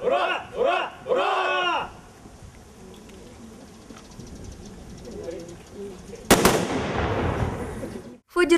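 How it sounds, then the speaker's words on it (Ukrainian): Soldiers fire salute volleys into the air at a Victory Day commemoration in Zmiiv. After a crowd's chanted shouts comes a loud, sharp blast that echoes and fades, then a second crack at the end. "Військові салютували в повітря мирні залпи."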